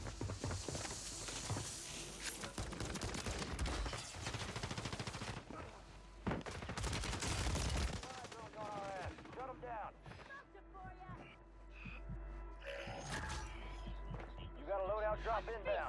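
Warzone 3 multiplayer combat with repeated bursts of automatic gunfire and single shots, loud at first and then sparser, mixed with game effects and players' voices talking over the action.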